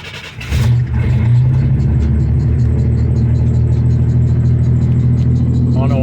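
A 1993 Chevy S10 Tahoe with a 2.8 TBI engine and five-speed fires up after sitting since Christmas, catching with a brief crank and then settling into a loud, steady, close idle rumble, no talk over it.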